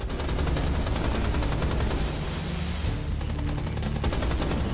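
Gunfire in the 2013 video game Rise of the Triad, a steady, rapid automatic stream of shots at moderate loudness, continuing for about five seconds with no talk.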